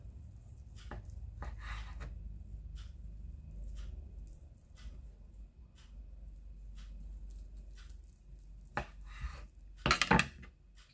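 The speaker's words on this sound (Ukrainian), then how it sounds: "Ось нарізаю зовсім тонесенько." A knife thinly slicing cured pork loin taps against a cutting board in a steady series of soft strokes, with a sharper clatter near the end, close by in a quiet room.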